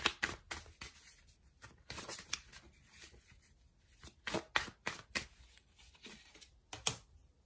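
Tarot cards being shuffled and drawn by hand, quick crisp riffles and slaps in irregular bursts close up, quiet with no talking.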